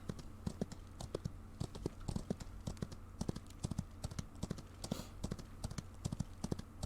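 Rapid hoof clops of a galloping horse in the Old West video game Outlaws of the Old West, a quick even rhythm of sharp strikes at low level with no talk.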